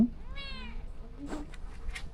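A single drawn-out cat meow, fairly close, beside a car with a burst tyre, followed by soft rustling and faint scattered noises.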